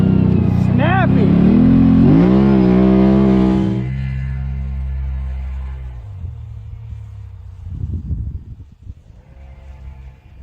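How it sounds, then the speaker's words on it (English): A Can-Am Maverick 1000 V-twin engine revs hard and close, rising and falling loudly, then drops back to a lower rumbling idle with a few throttle blips. "that thing sounds really good. The V-twin is just awesome."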